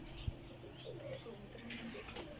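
Soft, low cooing of pigeons in a noisy background, with a brief thump near the start.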